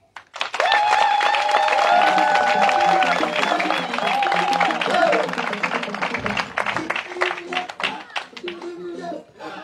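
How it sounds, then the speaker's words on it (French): A gathered crowd at a political alliance meeting breaks into dense clapping that swells quickly, holds loud for several seconds with voices calling out, then thins into scattered claps. "Je voudrais que vous puissiez applaudir pour eux."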